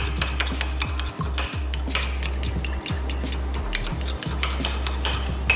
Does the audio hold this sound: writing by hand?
no